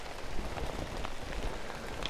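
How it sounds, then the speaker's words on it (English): Rain falls steadily on outdoor gear, a dense close patter of drops hissing across the surface without pause, with no voices. "Okay, this is a little bit too much rain."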